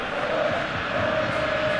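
A virtual stadium crowd in PES 2021 at a Barcelona versus Liverpool football match makes a steady, dense roar that swells slightly, a continuous wash of cheering and clapping.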